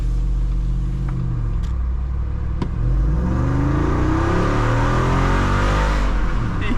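Engine of a 2021 Jeep Wrangler with the 6.4 HEMI V8 pulling hard under acceleration, a loud deep roar rising steadily in pitch, heard from inside the cabin with no talking.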